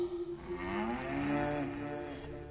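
Cattle moo loudly and close by in a single long, low, drawn-out call that swells and then fades, with no voices around it.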